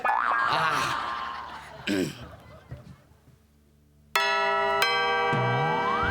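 A doorbell chimes loudly and rings on with a bright sustained tone after people chatter and fade to near silence.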